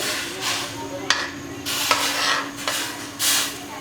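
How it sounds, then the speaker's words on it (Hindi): Boiling plum chutney stirred in a pot, a bubbling sizzle under repeated sharp clicks and scrapes of a spoon against the pot, close and fairly loud. "तो इसको आपने हिला लेना है, मिक्स करेंगे"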